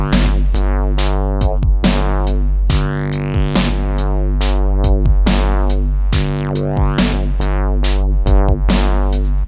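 A Synth1 preset bass loop plays loud and close, with a thick, buzzy, harmonically rich tone in repeating rhythmic pulses and occasional pitch sweeps, heard alone without talk.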